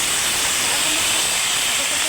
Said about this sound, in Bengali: তেলে কিন্তু আবার দিয়ে দেবো আমি চাল কুমড়োগুলোকে